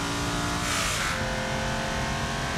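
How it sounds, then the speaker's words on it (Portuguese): A Chevette with a manual gearbox revving in the BeamNG.Drive driving game, a loud steady engine drone throughout with a brief higher-pitched surge near the start, no voices. "Olha só o barulho. É um Chevette."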